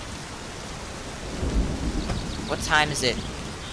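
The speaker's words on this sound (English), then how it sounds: "It's raining." Thunderstorm ambience in the My Summer Car game: steady rain with a rolling thunder rumble midway, while a person speaks briefly over it.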